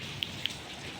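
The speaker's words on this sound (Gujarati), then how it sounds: "આઠમના દિવસે એટલો ખતરનાક વરસાદ પડે છે" Heavy rain pours steadily outside a house during the Janmashtami festival, a constant broadband hiss with a couple of brief sharper drips or taps standing out, no voices.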